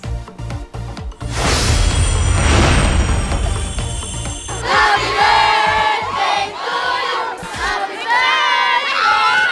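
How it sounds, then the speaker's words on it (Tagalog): High school students at Wawa National High School in Rodriguez, Rizal cheer and scream in a loud, sustained crowd roar, with shrill excited shrieks rising and falling throughout. "Todo ang hiyawan ng mga estudyante ng Wawa National High School ng Rodriguez Rizal nang dito mag-celebrate si Seth Cadayona"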